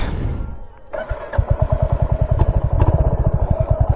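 Royal Enfield Hunter 350 motorcycle engine turning over and catching, then settling into a steady thumping single-cylinder idle with rapid even pulses, close and loud.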